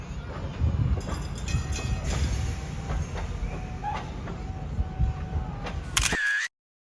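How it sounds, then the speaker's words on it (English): A rumbling Thomas the Tank Engine excursion train rolls along with rhythmic clicks and rattles from the cars, steady and close, ending in a sharp mechanical click and sudden silence. "We just enjoyed the ride, so just pretend that you're on the train."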